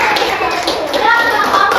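Primary schoolchildren in an Indonesian classroom burst into a brief round of clapping, a dense patter of many small hands close by, with a teacher's voice and children's chatter mixed in.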